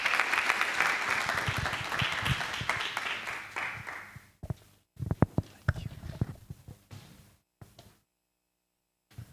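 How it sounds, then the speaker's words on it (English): Audience applause welcoming a speaker to the stage at a tech talk, with dense clapping for about four seconds. It thins into scattered claps and light stirring, then drops to silence. "Let's give a round of applause to welcome."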